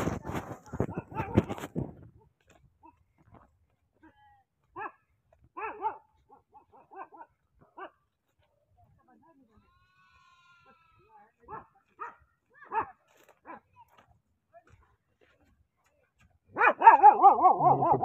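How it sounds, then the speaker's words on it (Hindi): A dog on a village visit barks in short, sporadic yelps spread across the stretch, with goats and sheep kept nearby; people talk briefly at the start and again at the end. "कुत्ता आ रहा है, भूख रहा है।"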